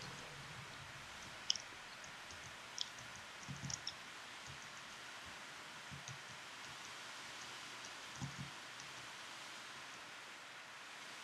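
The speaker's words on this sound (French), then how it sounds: "En fait, la pluie s'est pas arrêtée." Steady rain in Minecraft hisses evenly throughout, with scattered soft drips and a few low thuds, no voices.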